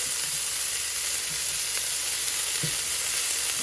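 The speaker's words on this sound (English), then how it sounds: "we're going to just let this saute for a little bit" Onions and carrots sautéing in a pan for cauliflower stir-fried rice, giving a constant close hiss of sizzling oil with a few faint stirring clicks and no speech.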